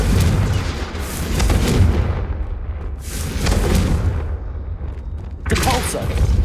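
Fiery Confringo spell blasts from Hogwarts Legacy burst out loudly in three booming waves, each a broad crackling explosion rolling over continuous heavy rumble.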